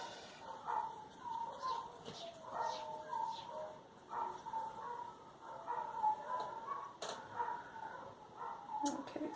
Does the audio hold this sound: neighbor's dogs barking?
yes